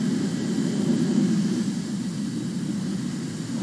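A steady, loud jet roar from an F11 Tiger fighter plane in a video game, a constant rumbling drone without pauses or voices.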